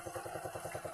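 A motorcycle engine runs at a steady idle-like pulse, its low rhythmic chugging close and even throughout with no other sounds.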